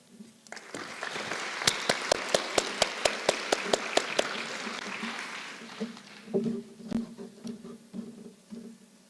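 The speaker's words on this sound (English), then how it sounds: "please join me to thank all the speakers of this panel" An audience at a conference panel on social housing applauds the speakers, a swelling wash of clapping with a run of sharp, evenly spaced claps near the microphone, fading as a voice begins to speak.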